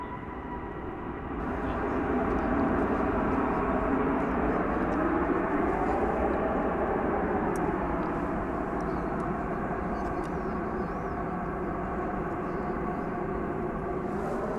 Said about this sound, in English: So there's our Dreamliner